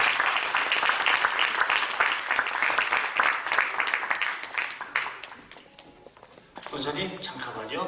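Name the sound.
audience applause at a church assembly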